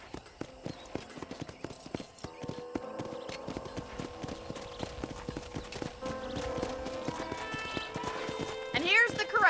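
Horse hooves clip-clop at a ranch corral in the Red Dead Redemption video game, a steady rhythmic clatter of hoofbeats under game ambience, rising louder near the end with a horse's whinny.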